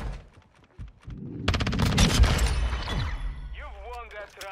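MP7 submachine gun in a first-person shooter fires a long rapid burst of crackling shots, loud and close, followed by a brief voice.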